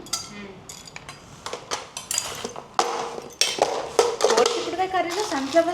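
A kadai placed on the stove for a cluster bean curry while sunflower oil is spooned in, a run of sharp metallic clanks and scraping spoon taps against the pan, close and irregular, with someone talking.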